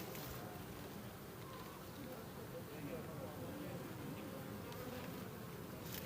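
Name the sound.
honeybees buzzing at hive in December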